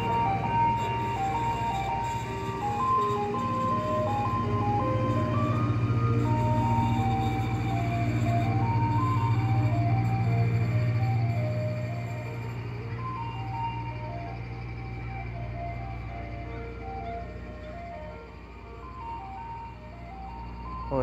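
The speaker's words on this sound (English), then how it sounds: "this ice cream truck is crazy" An ice cream truck plays the Turkey in the Straw jingle at medium pitch, a steady looping melody heard clearly and continuously over a low vehicle hum, with no talk.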